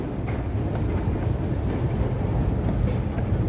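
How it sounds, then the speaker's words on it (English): A subway train in a Manhattan subway station, a steady, loud rumble with rail clatter filling the platform throughout, and no talking. "that's your little tour of the subway station"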